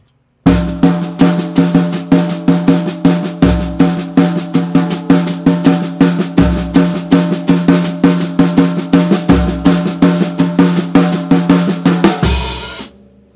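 A drum kit plays a linear melody with the right hand leading on the tom, using the down-up method: a steady, fast stream of evenly spaced, loud strokes with accented low hits recurring every few seconds, played alone without talk.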